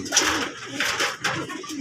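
Pigeons coo softly nearby, a few low throaty calls repeating in quick succession.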